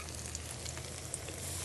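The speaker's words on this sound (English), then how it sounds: "Oh, look at that sizzle." Steady, close sizzling of chicken cutlets frying in hot olive oil, a constant crackling hiss with small pops.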